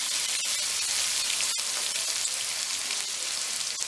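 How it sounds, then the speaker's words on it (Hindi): Vegetable pulao sizzles and crackles steadily in a pan over medium heat while being stirred, with a few sharper scraping ticks over a continuous close frying hiss and no speech. "मीडियम आंच में हम इसे चलाएंगे"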